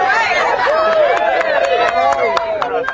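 A crowd cheers and calls out as the president gets back up after falling, with dense babble and shouting voices blending into a sustained, lively roar and scattered claps.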